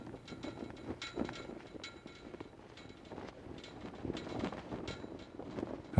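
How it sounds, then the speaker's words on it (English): Flagpoles on an empty Battlefield 2 map give off a faint, irregular clanking and rattling over soft wind-like noise, low and looping, with no other ambience and no voices. "The only sound you're hearing is the sound of these flagpoles"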